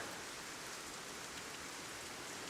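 Steady rain falls in a broad, even hiss across the whole stretch, quiet and unbroken, with no voices or other sounds.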